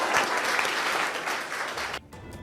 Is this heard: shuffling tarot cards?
no